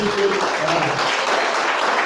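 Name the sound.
congregation applauding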